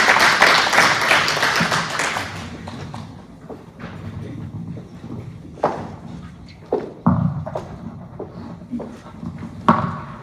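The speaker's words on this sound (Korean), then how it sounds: "박수 좀주세요" An audience at a school writing-festival orientation claps to welcome a priest. A loud burst of applause fades after two seconds into sparse, scattered claps and thumps.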